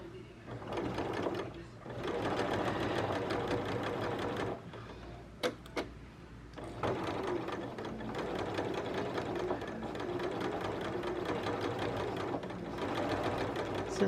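A sewing machine stitches fabric for a sewing basket item in a steady, close mechanical whir, running for a few seconds, briefly stopping with a couple of clicks, then starting again and running steadily to the end.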